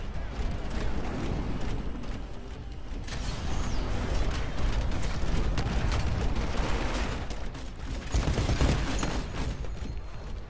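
Rapid turret gunfire in the video game Titanfall, dense mechanical clatter and bursts running continuously and loudly through the whole stretch, with a brief faint voice.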